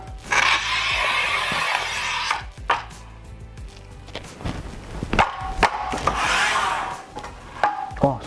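A Fixtool BA 120 manual tile cutter works through a 1.2 m long, 12 mm thick, 55 mm wide tile, making loud gritty scraping strokes in several bursts with short pauses and knocks between them.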